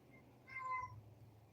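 A cat gives a single short meow at moderate distance over a low steady background hum, with no talking.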